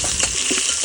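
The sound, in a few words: whole spices added to hot pan, sizzling while stirred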